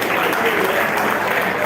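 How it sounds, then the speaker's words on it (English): An audience at an honoree celebration claps in a dense, continuous burst, loud and close throughout with no break or talking. "Another round of applause."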